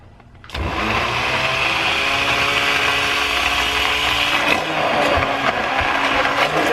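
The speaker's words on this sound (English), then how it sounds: "I'm going to go ahead and get my immersion blender in there and hopefully I don't make a mess" An immersion blender whirs into tomato soup, switching on abruptly after a quiet moment and holding a loud, steady motor drone up close, with slight changes in pitch as it moves through the soup.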